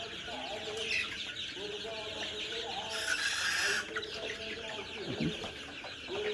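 Egyptian Fayoumi chickens on a farm cluck and squawk in a busy flock, with occasional louder calls rising over a steady background; a voice talks intermittently.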